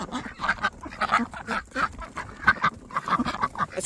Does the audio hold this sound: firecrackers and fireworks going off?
no